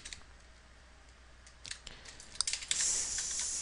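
Quick, light keystrokes patter on a computer keyboard while text goes into a PowerPoint text box, faint at first and then denser clicks, ending in a brief burst of louder noise.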